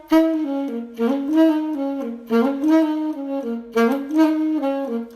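A saxophone plays a quick bluesy phrase of rapid runs and bent notes, repeated in three bursts, clear and close with no voices.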